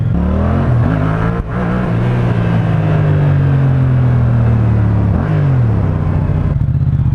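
A Yamaha MT-07 motorcycle engine revs hard in first gear for power wheelies uphill, a loud sustained roar that rises and falls with throttle and dips briefly at a gear change, with no talk.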